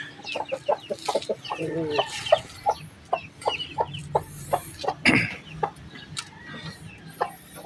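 Brahma chickens clucking steadily nearby in short rhythmic bursts, with overlapping soft calls from several birds, including a hen, and a brief louder squawk midway.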